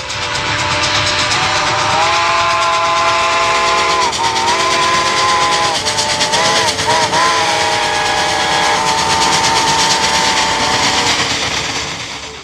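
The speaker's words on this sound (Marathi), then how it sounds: "आगगाडी रंगमंचावरनं धडधडत गेली" A huge prop steam train runs across a theatre stage during a play, producing a loud, continuous rumbling clatter topped by long wailing whistle tones that waver and dip midway before holding steady.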